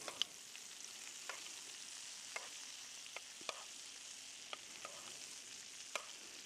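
Fish and cockles fry quietly in a pan while being basted, a steady soft sizzle broken by light scattered taps and clinks of a spoon, close and alone.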